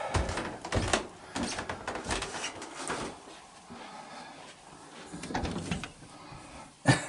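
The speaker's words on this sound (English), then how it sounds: "I gotta put the locks and everything back on the door." Locks being worked and a door opened at a basement entry, a series of close clicks, rattles and knocks over about seven seconds, ending in a sharp louder clack.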